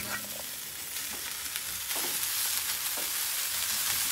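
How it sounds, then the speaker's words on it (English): Pork sizzles and fries on a flat top griddle, a steady bright crackle with occasional louder pops and spatters, close and continuous with no talking. "We're going to warm that pork up on the flat top."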